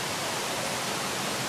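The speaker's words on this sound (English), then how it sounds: "Look at the river, the waterfall right there." A waterfall and river in Puerto Rico pour with a steady, dense broadband rush that stays even throughout, with no voices over it.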